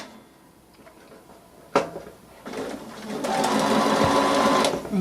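A sewing machine stitches binding along the edge of a quilt. A sharp click comes first, then the motor whirs up and runs steadily, close and fairly loud for the last few seconds.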